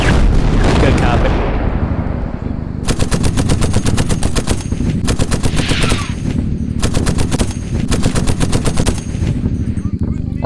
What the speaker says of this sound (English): Artillery shelling is still continuing from the south and from the west